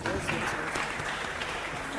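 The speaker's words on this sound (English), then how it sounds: "A round of applause, ladies and gentlemen." Audience applause at a live student quiz event, a steady wash of clapping held at one level throughout, with voices mixed into the crowd noise.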